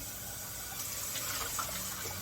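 Hot tap water runs steadily as eggs are rinsed clean under it, a constant hissing flow with faint splashes and no talk.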